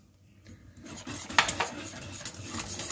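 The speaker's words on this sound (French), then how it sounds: "Et là, je fouette jusqu'à temps que ça s'épaississe." A whisk scrapes and clinks in a pan while béchamel sauce for lasagne thickens, making quick irregular metallic taps and rattles that grow busier and louder toward the end.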